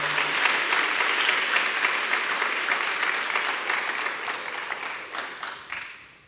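A church congregation applauds Saint Joseph in a dense, steady wash of clapping that swells and then gradually thins and fades toward the end, with no voices over it.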